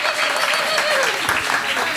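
Audience applause at a Hanukkah Torah lecture auction, a dense steady patter of many hands clapping continuously for two seconds, with a voice speaking over it.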